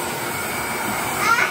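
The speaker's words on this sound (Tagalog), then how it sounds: "Machong nagbo-blower." A hair dryer blows a woman's hair dry as her husband styles it, giving a steady, close airy whoosh throughout that swells slightly near the end, with faint voices in the background.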